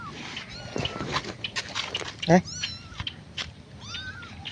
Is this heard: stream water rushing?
no